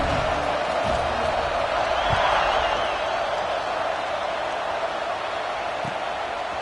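Football stadium crowd before a kickoff, a broad steady roar of cheering with a few scattered whoops and thumps, sustained and even from start to finish.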